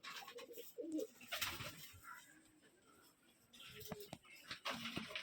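Pigeons kept in a loft during winter coo softly in short bursts, faint and close, over a quiet background with scattered light rustles.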